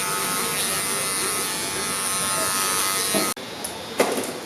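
WAHL electric hair clippers fitted with a 1.5 guard buzz steadily at close range while cutting hair, then cut off abruptly near the end, followed by a few faint clicks and small knocks.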